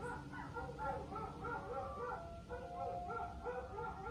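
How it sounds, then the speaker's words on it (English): A pet dog at home gives a series of rhythmic, high whimpering yips and soft barks, fairly quiet and steady, over faint background noise. "My dog."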